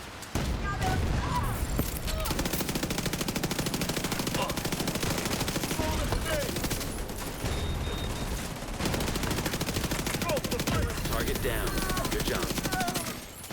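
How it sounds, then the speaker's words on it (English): Bursts of submachine gun fire from a first-person shooter rooftop and courtyard fight, loud and nearly continuous across the whole stretch, with a voice talking briefly over the shooting. "Using my secondary SMG here for a little bit."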